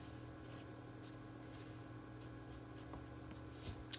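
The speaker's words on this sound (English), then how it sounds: "I'm going to write that in block capitals, nothing too big." Pencil writing block capitals on paper, a soft continuous scratching that stays steady and faint against low background hum, with a small bump near the end.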